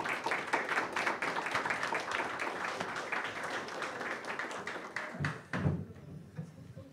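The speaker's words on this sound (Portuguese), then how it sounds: "E uma salva de palmas para o melhor analista do país." Audience applause at a Brazilian investment talk event, a dense steady patter of many hands clapping for several seconds, then thinning out to a few scattered claps as it dies down.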